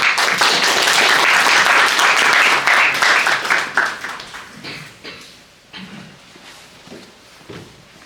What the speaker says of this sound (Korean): 그래서 박수로 문광기 대표님, 이용재 대표님 모시도록 하겠습니다